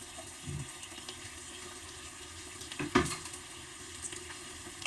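Pechay stems frying in a pan give a steady hiss and sizzle with a brief louder crackle and stir partway through, with no voices.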